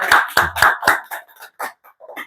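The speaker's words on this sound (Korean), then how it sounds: "박수 한번 쳐줄까요, 우리?" A handful of people in a small gathering clap in a short, uneven run of distinct hand claps, loud and near at first, then thinning out into scattered claps.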